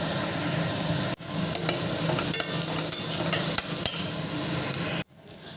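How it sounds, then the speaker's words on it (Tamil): Chopped onions with a little salt sizzle steadily in a cooker for crab curry while a spoon scrapes and taps against the metal in an irregular rhythm, close and moderately loud, then the frying cuts off abruptly. "அதோட கொஞ்சமாக சால்ட்டும் சேர்த்து வெங்காயத்தை நல்லா வதக்கி எடுத்துடலாம்."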